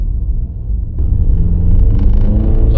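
A £900 Nissan Juke pulls away on the road, its engine note rising from a low idle rumble into steady acceleration about a second in, close and loud with no talk.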